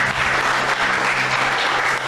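Church congregation applauding during a worship service, a dense continuous wash of clapping held steady at close range for about two seconds with no talk over it.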